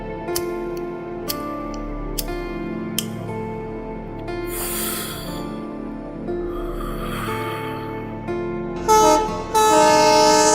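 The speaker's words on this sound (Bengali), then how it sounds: "হাওড়া থেকে ট্রেনটা যখন ছাড়লো" Train pulling out of Howrah station as a drama sound effect, with a steady low rumble and rolling wheel clatter, sharp periodic clicks, hissing bursts, and a loud horn-like blast near the end.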